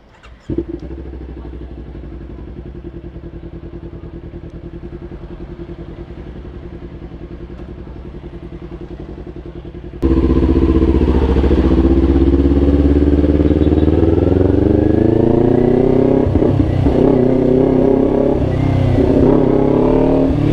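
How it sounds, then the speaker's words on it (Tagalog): A Kawasaki Ninja 400 motorcycle engine idles steadily in neutral, then the exhaust jumps to a loud, sustained roar with rising and falling revs, close by, no voices. "Paparinig ko rin sa inyo yung tunog ng muffler niya."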